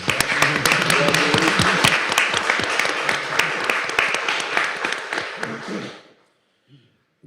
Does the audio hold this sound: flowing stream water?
no